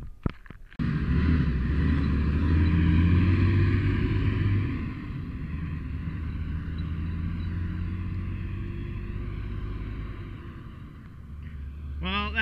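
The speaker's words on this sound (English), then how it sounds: "Well, that is one big truck" A big truck on a road rumbles heavily nearby, its engine drone holding steady for several seconds before easing off slightly, with no talk over it.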